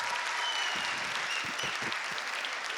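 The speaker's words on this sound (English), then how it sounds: "Give her a round of applause." Audience applause for a volunteer at an interactive stage session, steady moderate clapping from a crowd with a few low thumps and murmurs mixed in.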